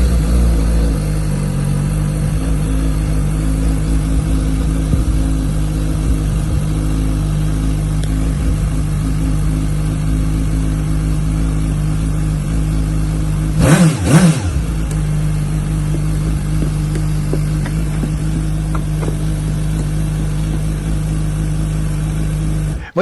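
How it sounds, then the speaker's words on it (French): A motorcycle engine idles with a low, steady rumble, then a brief rev spike midway as the rider sets off, settling back to a constant drone. "je vais faire un tour de moto"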